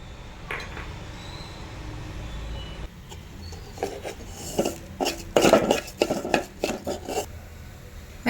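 Urad dal roasting in a pan as it is stirred, close scraping and rasping strokes with light clinks against the metal that grow busier and louder after a quieter start.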